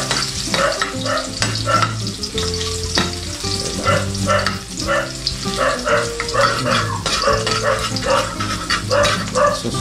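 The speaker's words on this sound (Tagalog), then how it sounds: "lalagay ko na po yung ating luya" Ginger fries in a hot pan with a steady close sizzle and crackle. Stirring scrapes and knocks come in a loose rhythm, a dog barks now and then in the background, and no one speaks.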